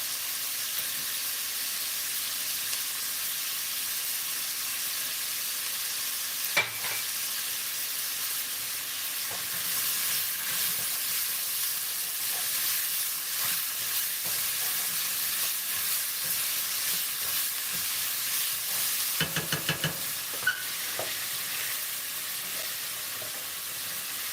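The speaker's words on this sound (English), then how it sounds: "Stir in sriracha sugar." Sriracha and sugar are stirred into a sizzling pan, giving a steady soft frying hiss. A few sharp clinks of a utensil against the pan come through, with a cluster near the end.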